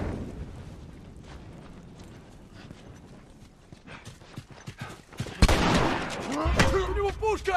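Gunfire in the video game The Last of Us rings out amid shuffling game sounds, building to several loud, close shots in the final seconds, with a voice talking faintly alongside.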